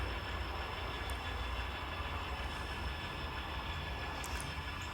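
A steady low rumble of a DT&I train on the rails, its engine running long hood forward, with faint squeals and clicks above it, continuous and moderately distant.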